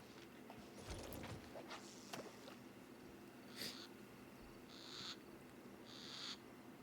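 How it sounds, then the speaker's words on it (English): A pet bird in the fantasy online game Albion Online gives a few hooting, owl-like calls, fairly quiet against a steady background hum, followed by three short, bright chirping bursts spaced about a second apart. "What the hell was that sound? Was that my bird?"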